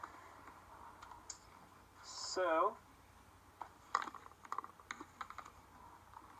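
Computer keyboard typing during a sports card case break, scattered clicks and taps in quick irregular bursts at close range, alongside a brief spoken word and other faint background sounds.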